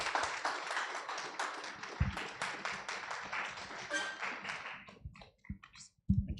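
Audience applause at a talent management conference, a dense patter of many clapping hands that thins out and breaks into scattered claps near the end, with a few brief low thumps.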